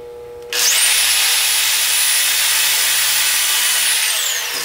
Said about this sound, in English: And that's where I drill my next drill bit or hole.